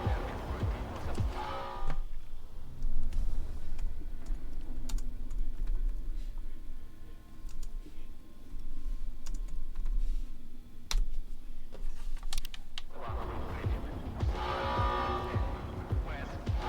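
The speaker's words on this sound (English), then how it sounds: "I'm just typing in the chat to respond since he can't currently hear me." Someone types quickly on a computer keyboard during a live stream of the game STALKER 2: Heart of Chornobyl. The clicking is continuous, with busier, louder bursts at the start and end.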